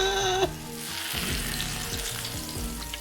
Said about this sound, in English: I'm gonna fry in small batches.